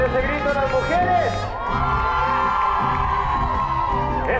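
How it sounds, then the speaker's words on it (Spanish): A crowd at a mariachi concert in Las Vegas shouts, whoops and cheers loudly and continuously, with high women's cries rising over the din. "A ver ese grito de las mujeres."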